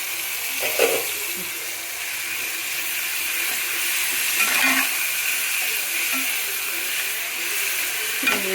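Prawns fry in a pan of spiced onions for a spicy prawn biryani, giving a steady, loud hiss and sizzle with a few soft utensil knocks and no talking.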